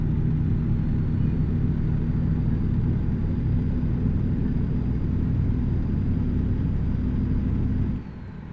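A truck engine in American Truck Simulator rumbles as a loud, steady low drone that runs unbroken for about eight seconds and then drops off sharply near the end.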